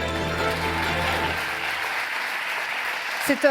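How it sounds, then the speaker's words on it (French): Audience applause at an eco-activities award ceremony: a steady wash of clapping that fades in its second half under a voice, ending with a brief noise burst. "On peut les applaudir, ces 3"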